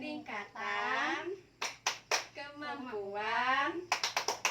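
A group performs the P2K2 rhythmic clap, chanting voices broken by bursts of sharp claps, including a quick run of four or five claps near the end.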